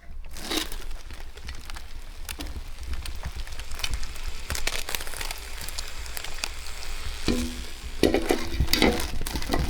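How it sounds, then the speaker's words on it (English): Steady crackling sizzle with scattered pops and soft stirring scrapes from Italian beef roast cooking in a crock pot, continuous and close, no voices. "Oh, I hear it sizzling right now, actually. I just heard it popping."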